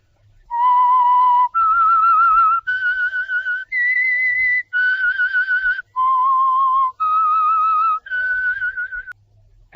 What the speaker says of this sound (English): the signal to listen for is this whistle, the Whistler.